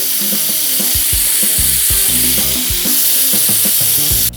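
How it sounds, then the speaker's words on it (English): Garlic sizzles loudly in a pan after seared scallops, while a utensil repeatedly scrapes the browned fond from the bottom in short rhythmic strokes under a steady hiss. "let's scrape off all the flavor and fond from the bottom of the pan"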